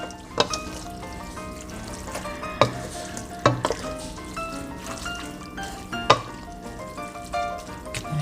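Shrimp pasta with basil being stirred in a frying pan, with a steady sizzle and several sharp utensil clacks against the pan at irregular intervals.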